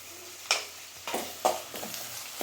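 Chicken liver gravy with tomato, onion, ginger-garlic paste and chillies is stirred in a frying pan, giving several soft scraping strokes over a low sizzle.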